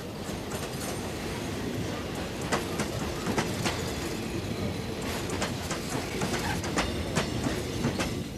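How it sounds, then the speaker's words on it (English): A train runs on rails in Mozambique, carrying workers toward the South African frontier: steady rumbling with repeated clickety-clack wheel beats and sharp rail clanks, close and continuous, with no voices. "trains still carry Mozambican workers to and from the gold mines of South Africa"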